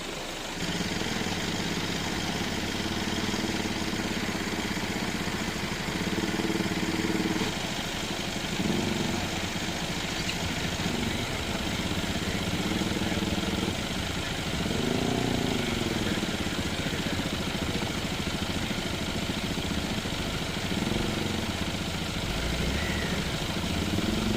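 A motorcycle engine idles and runs steadily at a distance, a low continuous rumble with slight surges, no voices present.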